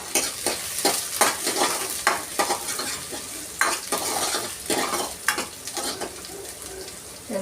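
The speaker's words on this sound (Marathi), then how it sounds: "तर कांदा आपल्याला तेलावर छान असा परतून घ्यायचा आहे." Chopped onion sizzling in hot oil in a pan on low gas, with repeated scraping strokes of a spoon stirring it in an irregular rhythm, close and moderately quiet.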